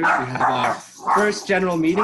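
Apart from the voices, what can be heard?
dog barking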